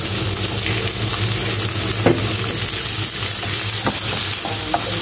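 Steady frying sizzle of olive oil heating in a pan for sweet and sour fish, with a few light stirring clicks and no talking.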